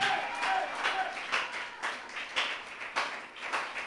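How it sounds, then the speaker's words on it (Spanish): A church congregation applauding during a Spanish-language service, a steady spread of many hands clapping at moderate distance for a few seconds. "Denle un aplauso al Señor esta mañana."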